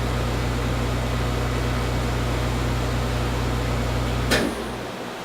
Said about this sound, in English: You'll see this, you'll hear the vacuum go off